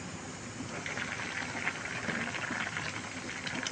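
Covered pot of vegetables simmering in chicken stock, a steady soft bubbling hiss running evenly and fairly faint throughout with no talk.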